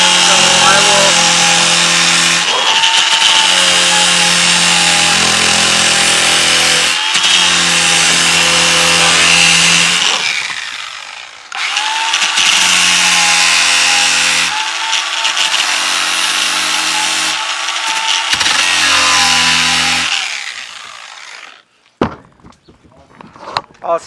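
A power sander works a wooden stair tread, giving a loud sustained droning whine in long runs with brief dips and a stop, then scattered handling knocks at the end.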